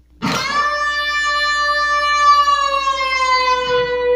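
One electric guitar note from a solo is plucked and held, its pitch bending upward and sliding slightly back down as it rings out, clear and close.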